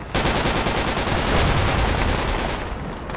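Sustained, heavy gunfire from the tactical military shooter Project Reality: dense, rapid overlapping shots and bursts that roar loudly and continuously before easing slightly near the end.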